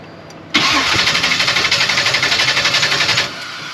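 A Blueprint 540 big block V8 in a C10 pickup cranks briefly, then catches and roars to life, settling into a loud, fast, uneven idle that drops off sharply near the end, with no talk over it.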